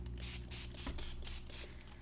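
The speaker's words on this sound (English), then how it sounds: "First, let's go ahead and give this a quick mist." A misting spray bottle, used alongside Distress Spray Stain for papercraft, fires a rapid series of about seven short, hissing spritzes close up, quiet overall with a faint mechanical click between pumps.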